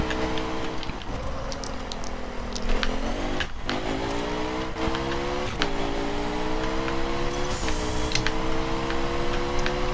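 The engine of a Ducati Monster 1200 S motorcycle in the racing game The Crew Calling All Units revs steadily during a wheelie, its pitch climbing and dipping through gear changes, with a loud, continuous, close, buzzing drone.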